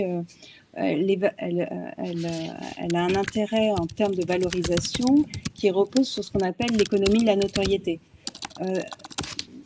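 Rapid clicking of a computer keyboard comes through a call microphone, a steady clatter running beneath someone speaking French throughout.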